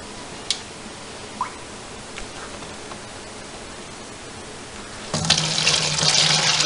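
Oatmeal stout wort is poured through a strainer from one vessel to another, a few faint clinks giving way to a loud, steady gush of liquid that begins abruptly and keeps running.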